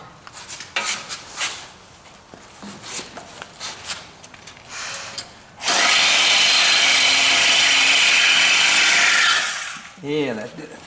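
A Sawzall reciprocating saw cuts loudly through the metal of a split-window coupe chassis for about four seconds, after quieter clanks and handling noises in a garage; a short voice follows.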